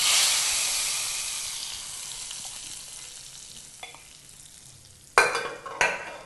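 Hot tempering stirred into cucumber dal gives off a loud, close sizzle and hiss that slowly fades, followed by two sharp bursts of stirring and spattering near the end, with no voices.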